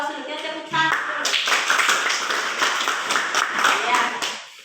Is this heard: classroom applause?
yes